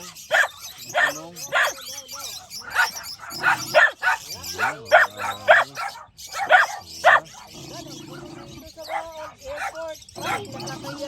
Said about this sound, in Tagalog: May aso pala doon.